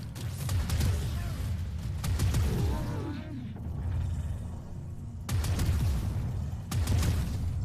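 Grenade launcher fire in the Warframe video game, dense bursts of booming shots and mechanical clatter with a brief lull midway, a voice speaking over parts of it.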